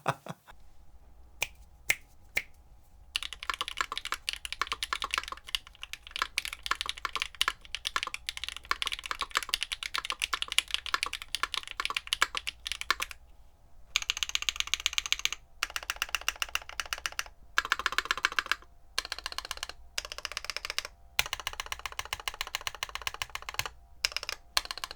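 Keebfront Honeycomb mechanical keyboard switches, stock, clack in bursts of fast typing, with crisp close keystrokes separated by brief pauses.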